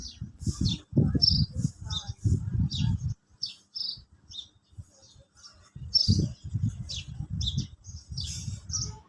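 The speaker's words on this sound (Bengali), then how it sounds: "দেখো বাইরে কিন্তু পাখি ঝিঝিমিঝি ডাকতেছে শুনতে বেশ ভালো লাগতেছে" Birds chirp and call outside at dawn in a steady, high run of short tweets, with a person talking over them close by and a pause in the talk partway through.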